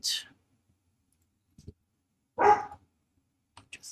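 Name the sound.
dog barking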